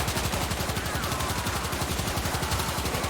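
Rapid sustained gunfire in the video game Warframe, a dense, unbroken stream of quick shots at an even pace, quiet and compressed, with no voices over it.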